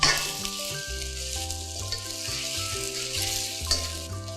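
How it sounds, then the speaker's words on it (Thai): Wide rice noodles stir-fry in a hot pan with a splash of dark soy sauce, giving a steady close sizzle. Background music plays over it. "เราจะคั่วให้เส้นใหญ่ของเรานะคะมีกลิ่นหอม ให้ไหม้ๆเล็กน้อย"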